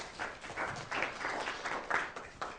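An audience at an academic health informatics event applauds, a brief spatter of clapping that swells and fades over a couple of seconds.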